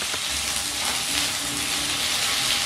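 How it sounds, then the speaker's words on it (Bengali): Raw green mango frying in oil with tempering spices, a loud continuous sizzle that holds steady and close throughout, with no voices. "ভালো করে ভেজে নিচ্ছি।"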